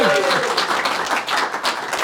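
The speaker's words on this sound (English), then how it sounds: "big round of applause" An audience at a comedy show applauds comedian Marco with steady, loud, dense clapping that lasts throughout. A host's voice talks over it.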